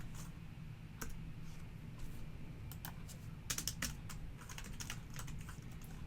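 Fingers type an email address on a computer keyboard, a quick run of close clicky keystrokes coming in bursts with short pauses, over a steady low hum.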